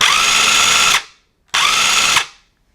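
Two sustained bursts of a DeWalt cordless impact driver whirring at a steady high pitch, each about a second long with a brief pause between, loud and close.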